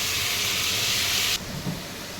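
Dried pepper and tomato frying in oil, giving a loud, close hissing sizzle that cuts down abruptly partway through and then settles into a lower crackle, with no talking.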